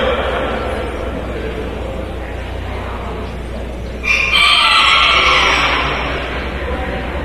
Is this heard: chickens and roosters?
yes